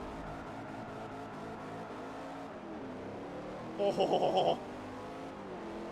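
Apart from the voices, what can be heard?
race cars accelerating in video game Forza Motorsport 4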